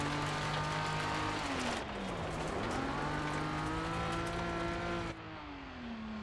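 A Subaru Impreza drives hard on a racetrack, its engine droning loud and close with rising and falling pitch as it revs through gear changes and shifts off the throttle into a corner.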